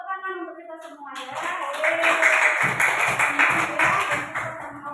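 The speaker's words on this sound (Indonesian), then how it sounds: "Tepuk tangan untuk kita semua ya" A class of children claps their hands together in a quick, fairly even rhythm after a teacher's voice, the clapping loud and close and lasting several seconds.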